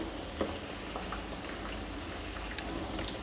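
Vanjaram fish pieces dropped into curry boiling in a clay pot, a soft steady bubbling and simmering hiss with a faint splash near the start, close and fairly quiet with no talk.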